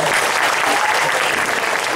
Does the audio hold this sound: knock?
no